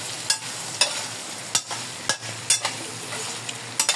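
Pork frying with red and green peppers in a pan, a soft steady sizzle punctuated by sharp scrapes and clacks of stirring at irregular intervals.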